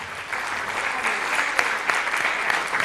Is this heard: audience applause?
yes